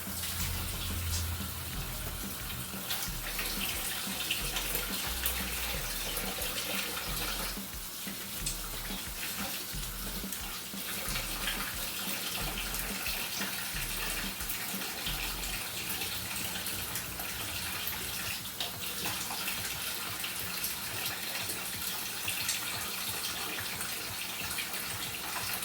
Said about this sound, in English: And then you wash your hands.